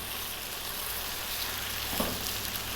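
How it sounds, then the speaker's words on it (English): Chicken cooks with tomato paste and garlic in a hot pan, giving a steady, close sizzle with a faint stir or scrape partway through. "We want to go for about 5 minutes working this in and cooking it out."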